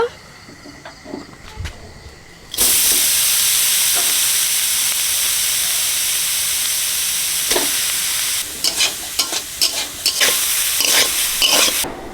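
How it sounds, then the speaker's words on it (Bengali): Grated coconut frying and being stirred in a pan: faint scraping first, then a loud, sustained sizzle, with bursts of spatula scrapes and clatter near the end. "নারকেলটা ভেজে নেব"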